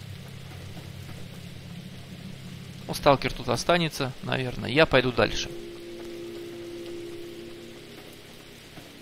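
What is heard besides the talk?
rain in video game Stalker Online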